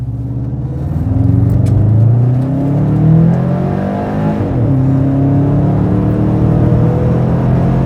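A car in power mode accelerates hard from a standstill, its engine rumbling loud and close with rising whine, climbing steadily through the gears over several seconds.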